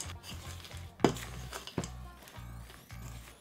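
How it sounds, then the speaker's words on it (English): Chocolate chips are mixed into cookie dough in a bowl, giving soft stirring sounds with a couple of sharp utensil clinks against the bowl. "So we're going to add our chips to 1/2 of the dough. and just mix that to combine."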